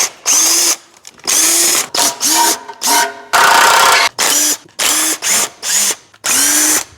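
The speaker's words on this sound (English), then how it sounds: "first thing I wanna do is start removing these trans bolts" A power tool spins out transmission bolts on a Ford Ranger in a series of about nine loud, close whirring bursts, each a second or less long, separated by brief silences, with no voices.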